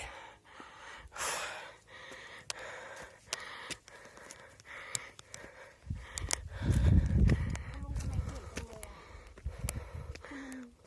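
Heavy, rhythmic breathing with gasps and puffs comes from close by during an uphill hike on Phu Chi Dao, a mountain trail, along with footsteps and scuffing. The breaths grow louder and rougher toward the end.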